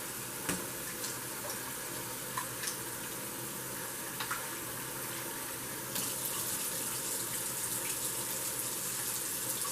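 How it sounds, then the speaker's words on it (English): Rice being rinsed in a bowl to wash off the starch: quiet running water with soft splashes, a brief clink or two, and the flow growing a little fuller toward the end. "All you're going to do is just rinse it a couple of times."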